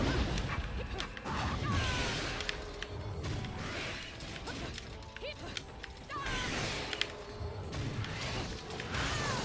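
Enemy dogs in the video game Bayonetta, shown on Hard difficulty, yip and bark amid clanking mechanical game effects and crashes, a busy, moderately quiet battle mix.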